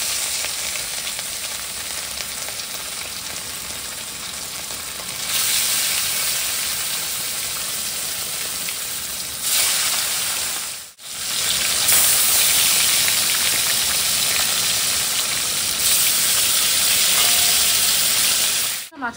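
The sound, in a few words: fish curry boiling in pan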